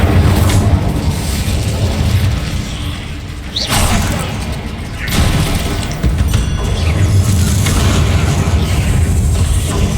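Fire spell cast in the Hogwarts Legacy video game, a loud whooshing, crackling burst with booming impacts over continuous game ambience, with several sharp swells across the span.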